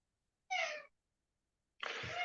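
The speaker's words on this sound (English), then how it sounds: "We've got this cat that keeps on visiting us." A visiting cat gives two short, fairly close meows, separated by a pause of about a second.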